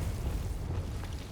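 Confringo fire spell from Hogwarts Legacy, a continuous low rumbling blast with a roaring, eruptive body that holds steady through the short moment without any talk.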